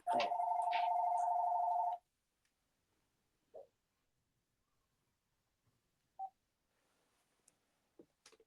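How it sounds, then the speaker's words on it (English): A phone rings during an interview: a steady electronic tone sounds loudly for about two seconds and then stops, followed by a few faint short blips and ticks in otherwise quiet surroundings. "Let me mute this phone."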